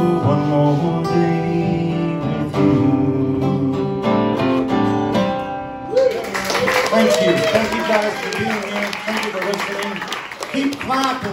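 A coffee-shop audience claps after a song at the Music for Humanity show at Noble Coffee Roasters. The music fades and a burst of applause follows, steady and close for several seconds, while someone talks over it.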